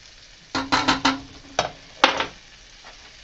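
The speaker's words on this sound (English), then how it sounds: "we're just going to sprinkle half of this mixture into our pot of green beans" A bacon mixture is sprinkled into a pot of green beans, giving a handful of short crackling sizzles and scrapes in quick clusters, close and moderately loud with quiet gaps between.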